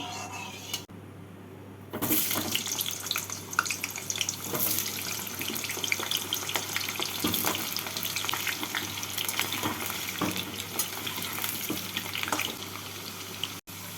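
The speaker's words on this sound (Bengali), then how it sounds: "তেলটাকে ভালো করে গরম করে নিয়ে আলুগুলোকে হালকা করে ভেজে তুলে নেব" Potatoes frying in hot mustard oil in a kadai: after a brief quiet start, a continuous bubbling hiss sets in and stays steady, with a few faint knocks and no speech.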